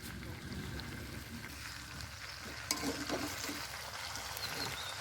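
Potato curry sizzling in goat-fat oil in a pan, a steady faint frying hiss with occasional stirring scrapes, heard alone.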